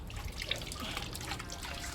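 Water being poured out for a dog, a steady splashing trickle with small drips, close and continuous, no talk.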